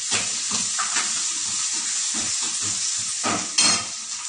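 Green chillies and asafoetida hit hot oil in a frying pan, giving a steady close sizzle with brief stirring scrapes, no voices.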